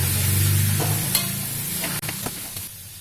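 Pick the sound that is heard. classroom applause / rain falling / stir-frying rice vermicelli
stir-frying rice vermicelli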